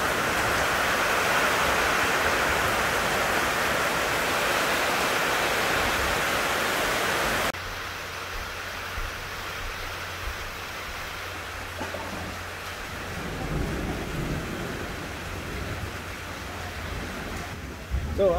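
Steady, dense rain shower roaring during a storm, loud and unbroken at first, then softer with scattered drips and patters, no voices.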